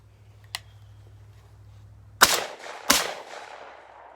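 A 1957 Remington Sportsman 58 16-gauge shotgun fires two loud, sharp shots about half a second apart, each with a short decaying tail, after a quiet stretch with a faint low hum and a small click.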